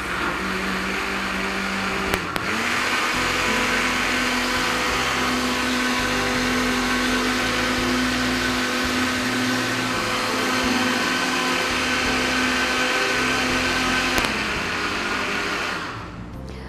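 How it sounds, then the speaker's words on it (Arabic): Blender running steadily and loud for about sixteen seconds, whirring a juice mixture for skin care made without yogurt, with a constant motor drone and churning that stops abruptly at the end. "هنبتدي كده نضرب"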